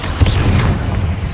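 A Confringo fire spell cast in Hogwarts Legacy lands as a dull, low boom that rumbles steadily for just over a second, close and fairly loud with no talk.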